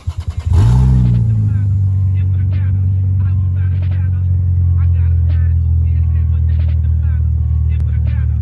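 A turbocharged 2JZ engine in a Lexus GS300, running rich, fires up after a few cranks and settles into a loud, deep, steady idle with light throttle blips.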